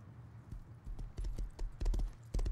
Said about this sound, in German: Jetzt kann ich natürlich viel länger im Galopp reiten